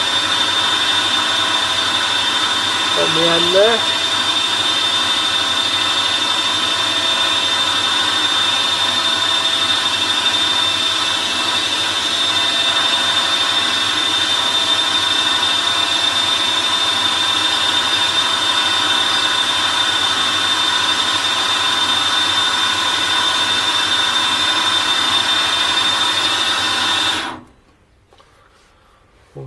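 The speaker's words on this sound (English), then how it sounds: "I'm going to start off with a centre drill just to establish" A centre drill cuts a brass carburettor body on a lathe as a steady, loud mechanical whine with a high tone runs unbroken for about 27 seconds, then stops abruptly; a brief voice speaks near the end.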